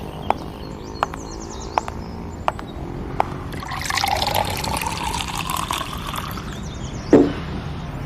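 Water pours into a glass in a quiet indoor room, a soft trickling and filling sound lasting a few seconds, preceded by a few faint clicks and followed by a brief sharp clink.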